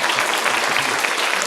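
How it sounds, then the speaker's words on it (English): An audience applauds at a poetry event, with dense, steady clapping from a crowd filling the short moment at close range. "Please, a round of applause for everyone."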